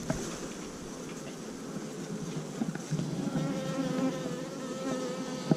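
Honeybees buzzing steadily from an opened queenless hive, a dense, close swarm hum that holds throughout with faint background noise and no talk.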